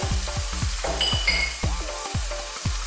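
Chunks of pumpkin fry loudly in a pan for a vegan Indian pumpkin curry, a dense, steady sizzle broken by rhythmic scraping and clattering as the pieces are stirred.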